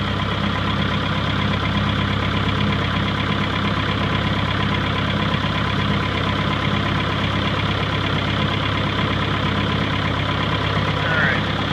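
A cold-started engine idles with a steady, unbroken mid-pitched drone and faint mechanical chatter, running alone at an even level throughout.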